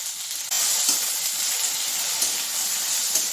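Okra and potato pieces fry with onion in a pan, giving a loud, continuous sizzle that jumps up sharply after a brief quieter start and then stays steady, with occasional small crackles and no talking.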